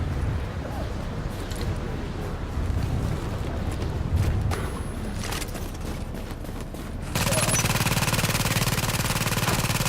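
A deployed automated turret in The Division opens up in a loud, sustained burst of rapid automatic fire over the last few seconds, following a stretch of busier mixed game noise, with voices also present.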